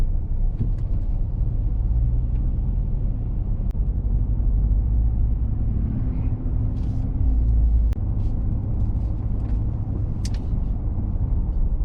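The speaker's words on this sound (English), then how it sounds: "No, it's traffic. It's rush hour." Heard from inside a moving car in downtown Ogden, Utah, at afternoon rush hour: a steady, loud low-pitched road rumble and engine drone, with faint traffic sounds above it and no talking.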